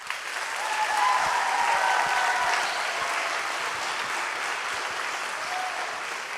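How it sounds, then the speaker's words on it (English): A high school choir concert audience breaks into sustained, even applause, a dense wash of many hands clapping that holds steady for several seconds with no talk on top. "So would you give them a round of applause first?"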